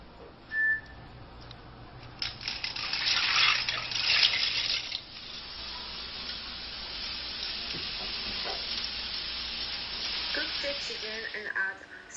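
Pasta cooks on a stovetop for a cream alfredo, a continuous bubbling sizzle that swells louder for a few seconds, then settles into a steady simmer, with a brief thin whistle-like tone early on.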